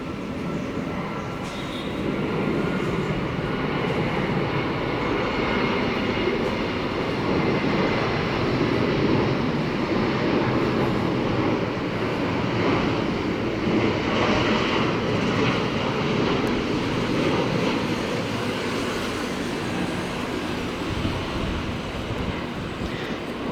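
Airbus A350-1000 landing on runway 25R at Tan Son Nhat airport, a loud continuous broadband roar of engines and rushing air that holds steady throughout, no talking.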